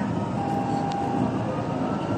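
A Dubai Metro train running on its line, a steady loud broadband rumble and rolling rail noise with a faint tonal whine, heard from inside the carriage without speech.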